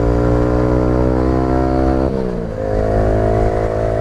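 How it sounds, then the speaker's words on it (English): A Kawasaki Z125 Pro motorcycle engine holds a loud, steady high rev, then dips sharply on an upshift before climbing back to a steady drone, heard up close. "Here, we'll do some good upshifts here"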